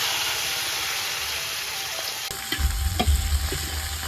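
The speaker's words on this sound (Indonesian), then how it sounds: "Lomboknya digoreng, Lur." Chilies fry in a pan with a loud, steady sizzle, and a burst of popping and crackling near the end as stirring begins.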